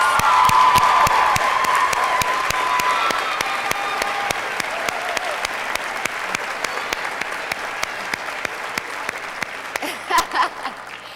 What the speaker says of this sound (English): if we could just give them one big round of applause